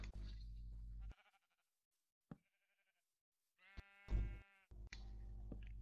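Sheep bleating in Minecraft: a few short, loud, wavering cries separated by silent gaps, with other game sounds between them and no speech.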